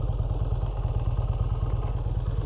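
Large V-twin engine of an ARCH KRGT 1 motorcycle, over two litres with a dry clutch, running with a steady low, pulsing throb and faint mechanical clatter, close and continuous while riding.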